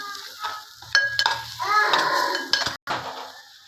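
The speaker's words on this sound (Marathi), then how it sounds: "परत एकदा परतवून घ्यायचं" Soybean masala curry is sautéed and stirred in a pan, with scraping spoon strokes, clinks of metal and a soft sizzle underneath, close and intermittent with brief pauses.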